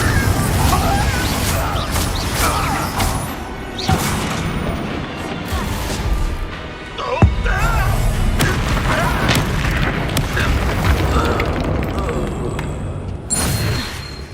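Confringo explosive spell blasts in the Hogwarts Legacy video game, a dense run of loud booming impacts and crashes layered with battle noise, with a voice speaking over the chaotic sustained barrage.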